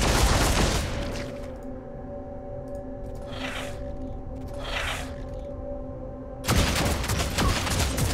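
Squad gunfire volley in Warhammer 40000: Deathwatch, a dense burst of shots opening and closing the stretch, with quieter rumbling and muffled blasts in between; no talking.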